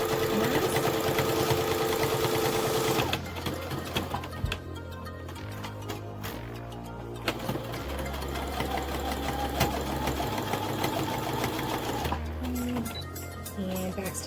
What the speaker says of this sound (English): Backstitching to close in that seam